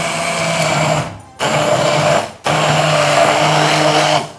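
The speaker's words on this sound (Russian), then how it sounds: "Взбиваем. Взбиваем. Нужным блендером." A blender whirs loudly while blending vitello tonnato sauce with lime, running in three steady bursts separated by two short pauses, close and alone with no talk.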